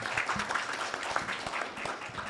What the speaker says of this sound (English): So applause to everyone, and then thank you very much.